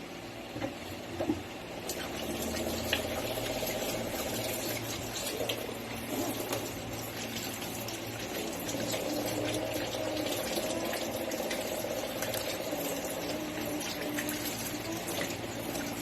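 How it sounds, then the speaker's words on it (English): Hands rinsed under a running tap in a handwashing routine, a steady broadband rush of water lasting throughout, close and even with faint splashing, no talk. "rinse hands with water."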